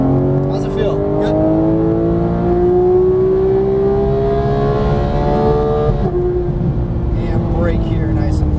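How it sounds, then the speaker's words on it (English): GT3 race car accelerating hard at full throttle on a track, engine note climbing steadily in long rising harmonics, a brief shift near the end before it pulls again, with an instructor's voice talking over it. "Throttle out to the left side of the track. Full throttle, go for it."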